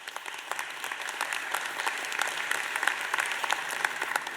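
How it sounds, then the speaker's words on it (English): Applause from a forum audience thanking the event's sponsors, a steady, fairly loud crackle of many hands clapping throughout. "They deserve a round of applause for allowing us to gather here."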